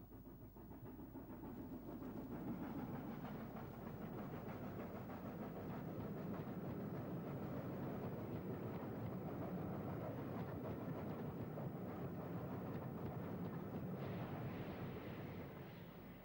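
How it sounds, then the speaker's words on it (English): A King Arthur class steam locomotive hauling Maunsell coaching stock passes near a footbridge, a continuous rumbling, chuffing roar of engine and rolling carriages that swells and holds steady throughout. "Another rare shot of a King Arthur, a Scotch Arthur, heading up with Maunsell stock."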